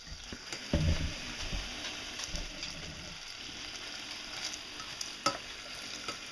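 Vegetarian bacon fries in a pan with a soft, faint sizzle and a few scattered clicks and pops, heard alone without talk.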